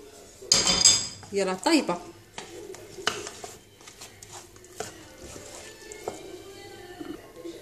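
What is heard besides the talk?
mixing potatoes with other ingredients in a dish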